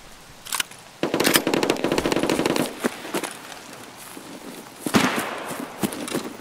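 Rapid bursts of MP5 submachine gun fire in the shooter game Escape From Tarkov, fast crackling volleys with a pause and a later shorter burst, fairly loud and close.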